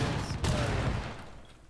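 Fuze cluster charge grenades go off in Rainbow Six Siege as a burst of rapid overlapping blasts that fade out within about a second, loud and close, with a sharp crack partway through.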